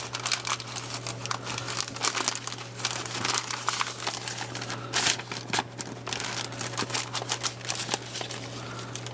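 A paper mail envelope is opened and handled up close, producing continuous crinkling and crumpling with scattered sharper tearing bursts over a steady low electrical hum, and no speech.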